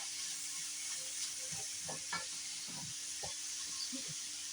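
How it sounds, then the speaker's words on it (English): Sliced onions and cabbage sizzle in a skillet with a steady, faint hiss, broken by soft scraping and stirring clatter now and then. "You can dump those onions in there now."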